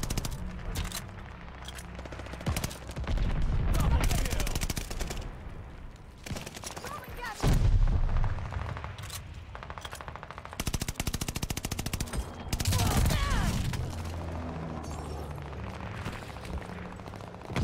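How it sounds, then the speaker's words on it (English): Video game battlefield with a called-in bombing run: dense, loud bursts of rapid gunfire and heavy booming explosions pound one after another, with brief lulls, close and continuous throughout, with a voice briefly audible. "Teammate called a bombing run."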